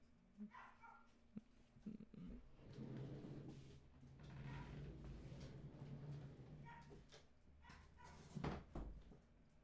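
A dog, a female, barks in scattered bursts indoors at moderate distance, with soft whimpers and some knocking or cupboard sounds mixed in.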